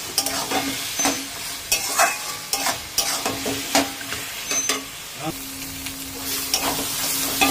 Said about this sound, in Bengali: আবারও আমি একটু ভালো করে নাড়িয়ে চাড়িয়ে নিই।